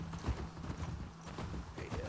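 Horse hooves clip-clop in The Last of Us Part 2 video game, a quiet uneven trot of thuds over a low ambient background.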